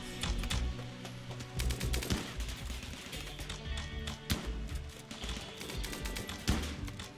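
Turret gunfire during a rainy raid in the video game RimWorld, Alpha 15, rendered as dense, rapid bursts of shots and impacts layered over game music, steady and loud throughout with occasional sharper cracks.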